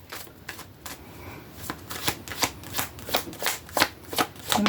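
Tarot cards are shuffled close up in a rapid, rhythmic series of crisp riffling bursts that grow slightly louder toward the end, with no talking.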